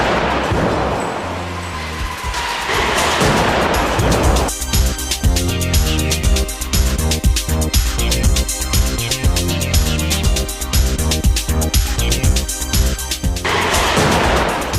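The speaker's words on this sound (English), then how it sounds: "the cameras show how the competitor's tank tears free from its mounting, striking the back of the driver's and passengers' seats" A van crash test in which a competitor's tank tears free from its floor mounting and strikes the backs of the driver's and passenger's seats. It opens with a loud roaring rush, then turns into a sustained, dense metallic rattling and grinding.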